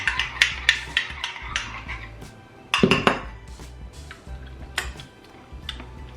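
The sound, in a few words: stirring ingredients in a bowl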